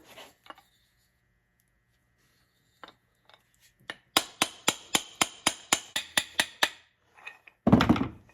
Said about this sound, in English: We're going to tap out the old wrist pin.